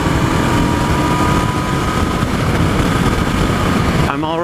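A 2016 Honda CB500F motorcycle engine during a test ride in sixth gear, a loud steady drone mixed with heavy wind noise that cuts off near the end.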